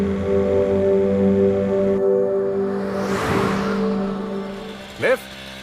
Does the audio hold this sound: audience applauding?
no